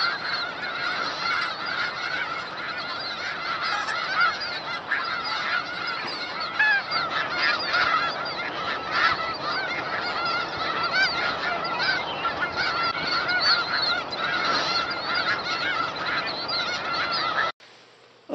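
A large flock of geese honks continuously, dozens of overlapping calls forming a loud, dense chorus that cuts off abruptly at the end.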